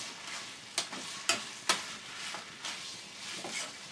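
Vegetables for veg chow mein fry over a high flame with a steady sizzle, while a spatula scrapes and stirs them in several sharp clattering strokes.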